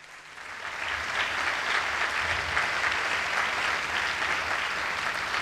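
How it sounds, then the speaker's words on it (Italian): Audience applause welcoming the conductor at a New Year's concert in the Teatro Verdi, Salerno, building quickly into steady, dense clapping from a large hall that carries on without talk. "Raccogliamola con un applauso, naturalmente."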